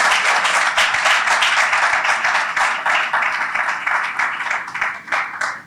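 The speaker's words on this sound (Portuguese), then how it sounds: "Uma salva de palmas para os dois." Dense, steady applause from an audience at a law lecture on chain of custody of evidence in criminal proceedings, held at a legal institute. It fills the whole stretch at an even, loud level with no talk over it.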